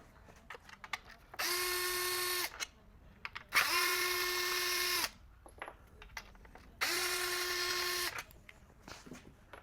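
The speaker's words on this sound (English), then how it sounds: "Now what we're going to do is remove these 3 bolts" Power tool backing out three Torx bolts from the rear spoiler motor unit of a Porsche 992 Targa: three separate whirring bursts of about a second each, close and loud, with clicks and handling noises between.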